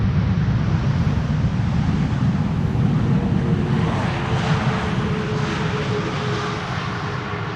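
Delta Air Lines Boeing 747 arriving from Atlanta on the Polderbaan runway 18R, heard as a steady, loud broadband jet roar with wind buffeting, holding strong throughout and easing slightly at the end.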